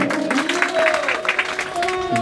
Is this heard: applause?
yes